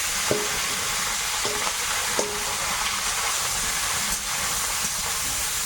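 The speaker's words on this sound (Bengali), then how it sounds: "মাছটা প্রথমে ভাজি" Fish fries in oil with a dense, hissing sizzle held close and steady, broken by a few light clinks of a utensil against the pan.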